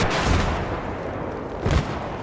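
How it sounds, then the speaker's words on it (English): Gunfire in Battlefield 3 during a team deathmatch on the Grand Bazaar map: a booming shot opens the clip and a second heavy blast follows about a second and a half later, both close and loud. "Let's see if I can shoot off of that building"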